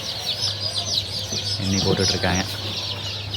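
Native country chicken chicks, about thirty, are counted into a box and cheep constantly in high rapid peeps, close by, while people talk over them.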